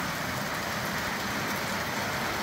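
Steady rain pouring outdoors on a farm, a dense, even hiss of drops hitting the ground and surfaces, loud and close with no break.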